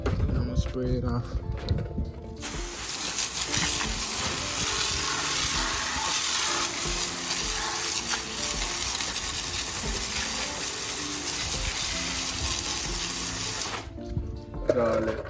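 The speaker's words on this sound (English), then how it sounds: "And I'm gonna spray it off." A pressure sprayer blasts water to rinse wheel cleaner off the rim and tire of a Scat Pack car, a loud continuous hiss that starts after a couple of seconds and cuts off near the end.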